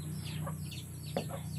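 Chickens cluck in short, soft bursts nearby, a few quick calls against a faint steady background hum.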